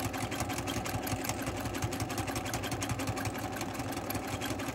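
A sewing machine runs steadily during free-motion quilting along a stitched checkerboard grid, a rapid, even mechanical chatter with a low motor hum, close and continuous without talk.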